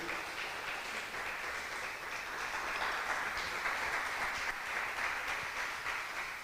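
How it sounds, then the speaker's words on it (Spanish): Church congregation applauding during a service, a continuous, even patter of many hands heard from some distance at moderate volume. "Démosle un aplauso al Señor Jesucristo."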